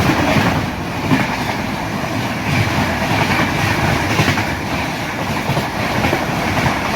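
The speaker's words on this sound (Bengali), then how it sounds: "আমাদের পাশে এখন যে ট্রেন যাবে সেটি হলো মৈরিয়া এক্সপ্রেস সম্বলপুর থেকে গোরখপুর" The Maurya Express from Sambalpur to Gorakhpur passes close alongside on the next track, heard from inside another train as a loud, continuous rumble with rhythmic clickety-clack of wheels over rail joints.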